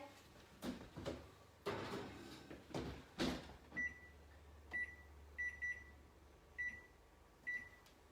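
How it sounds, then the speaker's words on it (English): Muffin bread goes into an oven. A few bumps and a thudding door close come first, followed by a series of short, high electronic beeps spaced irregularly, all faint and heard close by without talking. "I'm going to pop that in the oven"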